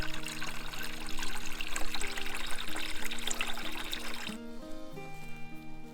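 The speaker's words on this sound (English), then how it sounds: "We're filling up a little more water here to mix with the pig's feed." Water filling a container to mix with pig feed on a farm, a fairly quiet continuous pour and trickle over a faint tonal hum, stopping abruptly near the end, no voices.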